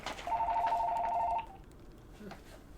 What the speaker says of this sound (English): shut that light or that phone off.